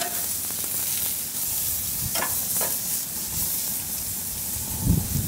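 Steaks sizzle steadily on a Napoleon Phantom grill just after being flipped, a constant close hiss with a few brief crackles and a soft low thump near the end.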